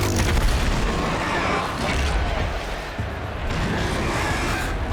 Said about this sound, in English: One more pillar and that platform will come down.